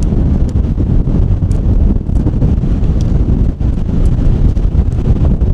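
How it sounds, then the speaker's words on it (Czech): Strong wind batters the microphone on an exposed mountain trail near Cirque Peak in Canada, a loud, continuous roaring rumble with gusty swells throughout. "teďka teda tady je úplně šílený, ale úplně šílený vítr"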